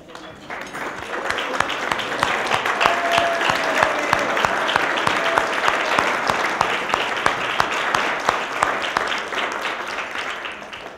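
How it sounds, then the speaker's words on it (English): An audience gives a hearty round of applause for a foundation's board members at a gathering, dense clapping sustained throughout at a steady, fairly loud level, with faint crowd murmur mixed in. "I'd love to have all of our board members stand up for a moment for a huge round of applause."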